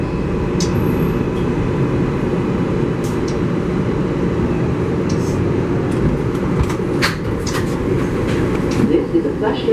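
MTA 7 local subway train running on its route, a steady loud rumble and rush of wheels on rails from inside the car, with faint clicks and squeals and a recorded announcement voice over it.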